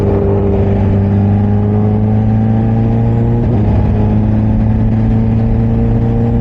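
A Kawasaki H2 motorcycle engine drones loud and steady with a strong low hum throughout, shifting pitch briefly midway as it is revved.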